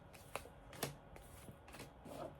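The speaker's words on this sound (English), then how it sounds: "I'm going to do one more shuffle because that shuffle didn't work." Tarot cards being shuffled by hand in a quiet room, giving soft, faint riffling and papery slaps in a few short bursts with no voices.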